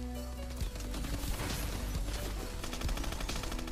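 Rapid PDW submachine gun fire in the video game Call of Duty: Advanced Warfare, a dense continuous burst of shots over game noise lasting a few seconds.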